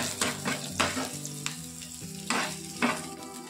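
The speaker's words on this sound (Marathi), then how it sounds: "तर आपण आता हे तेलामध्ये हे साहित्य आपण भाजून घेऊया।" Spices and onions roast in hot oil for a drumstick curry, giving a steady close sizzle and frying crackle. A spoon stirs and scrapes the pan in rhythmic strokes on top.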